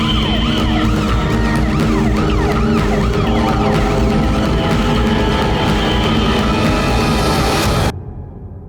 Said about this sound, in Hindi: एम्बुलेंस आई क्या?